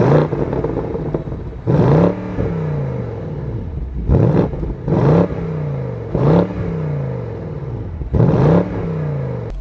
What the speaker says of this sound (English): Why does the 7 Series sound better than the new M3?